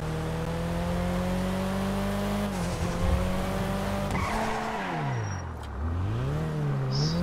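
A car in Grand Theft Auto V drives with a steady engine drone that rises and dips as it revs and slows, with a brief tire skid partway through, loud and close, no talking.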